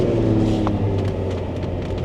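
A Ferrari Testarossa engine giving a deep, steady drone from inside the car, a low sustained rumble with no revving, heard alone.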